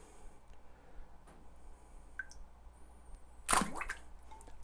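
Milk splashes once as an Oreo cookie is dropped into a glass, a short wet splat after a few faint drips and clicks in an otherwise quiet room.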